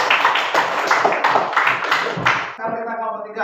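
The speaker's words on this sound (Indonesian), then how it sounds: "kita beri tepuk tangan untuk kelompok 2" Classroom applause for a student group: a burst of many hands clapping for about two and a half seconds. It stops abruptly, and a voice begins speaking.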